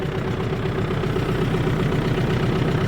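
A Skaut TV-904 C tractor fitted with an AGD 2.1 rotary tiller idles after harvest, giving a steady, continuous mid-low engine drone with even loudness throughout and no voices.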